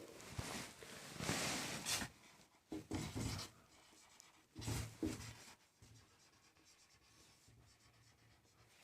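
A marker or chalk scratching and rubbing across a classroom board as a spelling is written out, several bursts of scraping strokes separated by short pauses, close and unaccompanied by speech.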